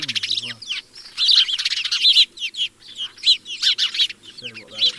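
House sparrows chirp busily in hedges, with rapid overlapping tweets and bursts of wing flapping, loud and close, while a low voice murmurs faintly underneath.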